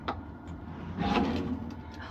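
Drawers in the custom interior of an Alu-Cab ModCAP camper on a 2021 Toyota Tundra slide open and shut, giving a few close clunks and a longer sliding rumble in the middle, with people talking quietly around them.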